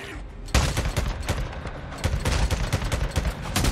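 Rapid bursts of gunfire from a weapon in the zombie survival game Days Gone, sharp close shots crackling in quick irregular volleys for several seconds, loud and with no talking.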